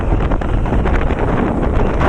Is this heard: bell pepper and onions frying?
no